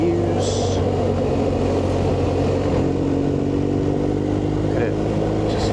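A BMW R1250GS Rally motorcycle drones at steady cruising speed on Scottish Borders roads, a loud continuous engine hum mixed with rushing wind noise.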